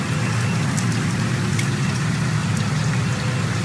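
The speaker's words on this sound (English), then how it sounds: "That's a lot of rain." Heavy rain pouring steadily outside a home in Arlington, Virginia, a dense, loud, continuous hiss with a low rumble underneath and no voices.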